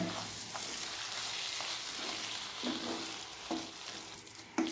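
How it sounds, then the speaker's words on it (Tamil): Vegetable keema masala fries and sizzles steadily in a pan while tomato paste is stirred through it, with soft periodic scrapes of the spoon against the pan. "டொமேட்டோ பேஸ்ட் ஆட் பண்ணி இதை வந்து நல்லா மிக்ஸ் பண்ணி விட்டுருங்க"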